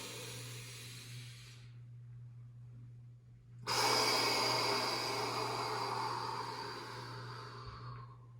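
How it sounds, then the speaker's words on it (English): During a mountain yin yoga class, a slow, deep in-breath rises as a loud, airy rush that fills the clip. It follows a quieter breath, with a steady low hum underneath and no speech. "Breathing all the way in."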